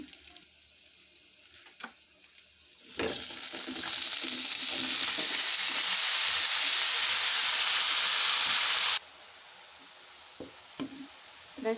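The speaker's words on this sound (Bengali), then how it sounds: "মিষ্টি কুমড়া ভাজি করবো লবণ দিয়ে দিলাম" Salted pumpkin hitting a hot pan bursts into loud, dense, steady frying hiss for about six seconds, then drops back to quieter kitchen sounds with a few clinks, close and without speech.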